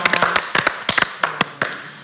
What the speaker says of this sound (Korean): 박수 한번 보내드려야 됩니다.